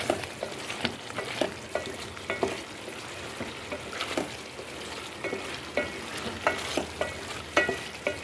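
Masala kaleji (liver) fries in a pan, sizzling softly while a spoon scrapes and stirs in irregular knocks, close and fairly quiet, with no talk.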